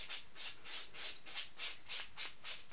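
Close-up rhythmic buffing of the top layer of Bio Sculpture gel nails, about nine soft scratchy back-and-forth strokes at a steady, quick pace, quiet and with no talking.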